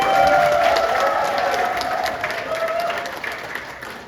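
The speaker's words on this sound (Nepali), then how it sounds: "अब ताली बजाइन्छ।" A gathered congregation at a Christian wedding ceremony applauds, a brief burst of clapping that fades gradually over a few seconds.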